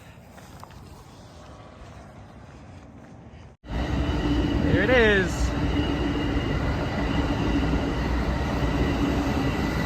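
A train passes on a railway line during a hiking-training walk, starting abruptly as a loud, close rumble with squealing wheels and steady rolling noise that fills the rest of the scene; a person speaks briefly over it.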